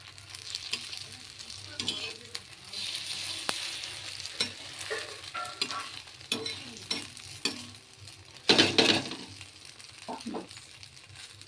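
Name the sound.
cheese omelette frying in a pan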